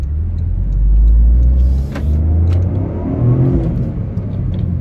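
A 2023 Toyota Corolla GR pulls away from a stop in first gear in city traffic, with a loud, close engine rumble that swells as it accelerates, eases off, then builds again.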